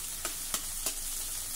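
Onion, one small capsicum and sweetcorn sauté in a pan with a bright, hissing sizzle, broken by three quick spatula scrapes in close succession.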